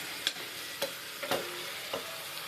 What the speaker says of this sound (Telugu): ఇప్పుడు చికెన్ వేసేస్తున్నానండి.